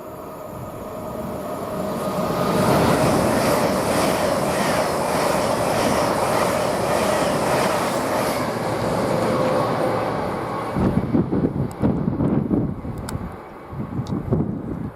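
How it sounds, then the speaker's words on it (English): LNER service from London King's Cross to Edinburgh passing through Grantham railway station, a loud sustained roar and rumble of the train rushing by with wind buffeting, then breaking into choppy gusts as it clears. "Now we are getting our LNER service from London King's Cross towards Edinburgh, passing at 1334."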